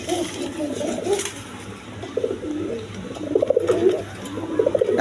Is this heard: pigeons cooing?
yes